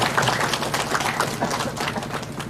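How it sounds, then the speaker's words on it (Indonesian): An audience at the inauguration of the Baitut Taqwa mosque breaks into sustained applause, a steady patter of many hands clapping throughout with no speech over it. "Tepuk tangan untuk Ibu Bapak."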